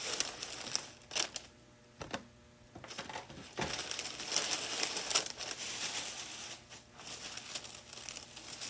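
Tissue paper from a wig box is crumpled and crinkled close up, with irregular rustling bursts and brief pauses between handfuls, heard alone without talking.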